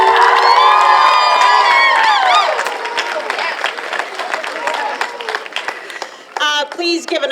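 Loud crowd cheering and applause at a school moving-on ceremony right after the national anthem, with a sung final note fading into whoops, children shouting and steady clapping, then a microphone voice breaking in near the end.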